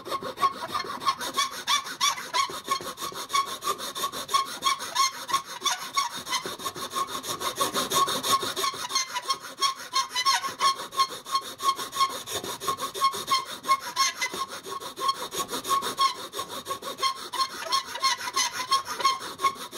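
Bastard-grade file rasping back and forth across wood in a steady, even rhythm of scratchy strokes, close and alone for a long stretch.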